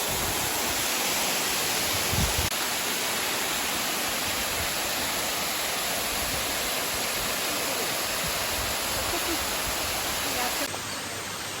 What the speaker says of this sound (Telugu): చిన్న ఉంది వాటర్ ఫాల్